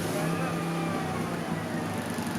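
An iPower 3800 inverter generator idling gives a steady, even engine drone with a constant low hum and no changes in pitch, heard close up and alone.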